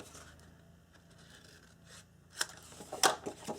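Paper being snipped with scissors while making a Valentine mini album, a faint quiet rustle building to a few sharp close cuts near the end.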